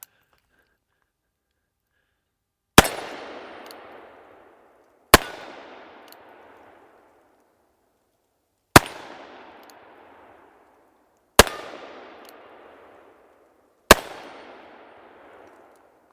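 Five loud, booming gunshots from a Taurus 460 Magnum Raging Hunter revolver fire at uneven intervals of a few seconds. Each sharp crack trails off in a long echoing decay, with silence in between.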